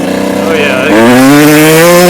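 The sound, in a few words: Kawasaki KX 125 motorcycle engine revving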